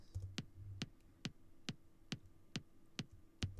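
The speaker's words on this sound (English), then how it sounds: "The click that I added sounds like this." A quiet click layer sample made to sit on top of a techno kick drum, sounding as a run of about nine sharp, evenly spaced ticks with nothing else playing.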